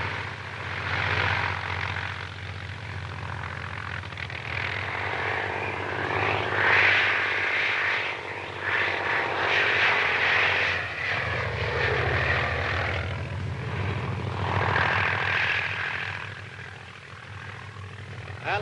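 A propeller airplane drones steadily in flight for the whole stretch, a continuous engine hum with slight swells, while voices talk intermittently over it.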